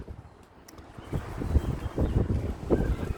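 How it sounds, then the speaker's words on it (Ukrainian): Strong gusty wind buffets the microphone, rising in rough low-pitched bursts that grow louder over the short clip. "Дуже сильний вітер."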